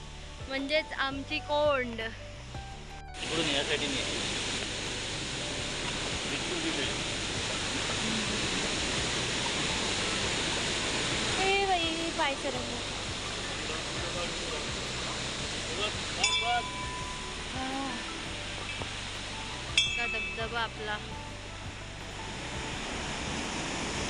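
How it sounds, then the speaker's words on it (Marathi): Water crashes forcefully at a hidden waterfall in a Konkan village, a steady broad rushing roar that fills the whole stretch, with people's voices audible over it. "तिथे पाणी किती जोर जोरजोर पडतोय"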